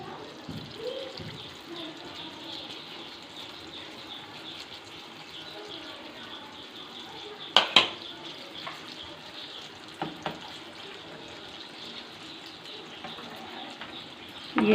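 Small rounds of donut-hole dough frying in hot oil, a steady soft sizzle throughout with a few sharper clinks and pops, while someone talks over it.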